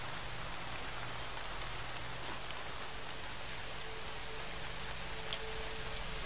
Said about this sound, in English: Oh my god, rain.